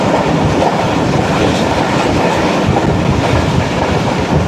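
A train rushes past at a railway station in Pakistan, close and loud: a steady, dense rumble with clickety-clack wheel noise that lasts the whole stretch and has no voices over it.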